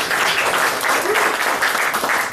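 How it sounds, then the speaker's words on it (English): A lecture audience applauds themselves, a loud, thick and steady burst of many hands clapping together, filling the room from start to finish without speech on top. "Give yourselves a round of applause"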